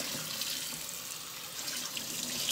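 Water from a kitchen tap splashes steadily onto a cast iron skillet as it is rinsed, a continuous close hiss and spatter with no talking.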